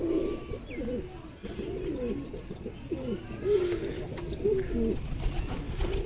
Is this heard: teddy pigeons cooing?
yes